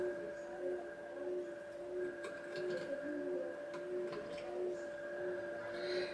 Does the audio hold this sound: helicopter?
no